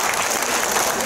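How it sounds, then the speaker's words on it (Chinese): Wedding banquet guests clap warmly together in a restaurant hall, a dense burst of crowd applause filling the whole short moment. "幸福的一家人一个热烈的掌声"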